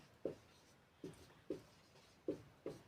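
Pen or chalk strokes while writing out a Class 10 surface area and volume math solution: five short scratchy taps spaced irregularly, close and fairly quiet, with no talk.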